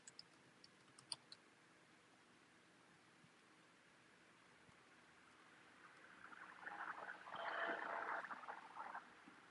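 Soft clicks of typing on a computer keyboard while information is entered, a few sparse taps early on, then a quiet patch and a denser rustling burst toward the end.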